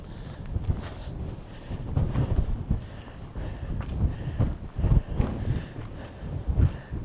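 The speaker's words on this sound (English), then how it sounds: "The wind is a little disconcerting" Strong, gusty wind buffets the microphone at a high lookout in an Arizona national monument, rumbling in uneven low surges and rising and falling in bursts over about seven seconds with no talk.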